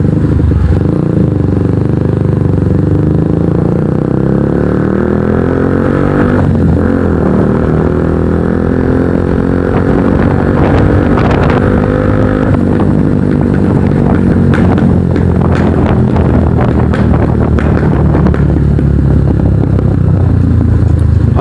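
A Kawasaki NS150 motorcycle with an Akrapovic exhaust revs up and down close by. Its engine drone is partly buried under heavy wind buffeting and rumble.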